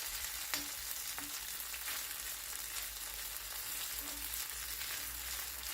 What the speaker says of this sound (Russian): Выкладываем ложкой кабачковое тесто и обжариваем с двух сторон на небольшом огне до румяной корочки.